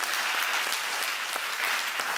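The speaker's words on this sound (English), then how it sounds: "See, you want to clap, right?" A church congregation claps during a sermon, a dense, steady patter of many hands with sharp individual claps popping out, continuing without a break and no voice over it.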